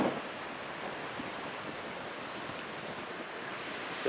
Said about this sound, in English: And it's windy, the wind's coming up